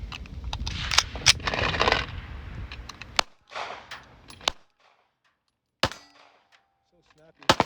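Gunshots from a handgun fitted with a new magazine extension at an outdoor shooting range, several sharp loud cracks spaced irregularly, some in quick pairs, with brief rattling between them and a quieter gap before the final shots.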